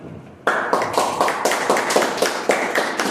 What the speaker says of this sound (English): So with a round of applause, please help me welcome Toastmaster Pushkar.